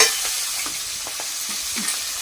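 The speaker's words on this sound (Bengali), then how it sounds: "এবার এর মধ্যে দিয়ে দেব ফোড়নে কালো জিরে, দিয়ে দিচ্ছি কাঁচা লঙ্কা" Black cumin seeds, green chilies and ginger paste fry in hot oil for a hilsa recipe, making a loud continuous sizzle with faint stirring scrapes, close up and with no speech.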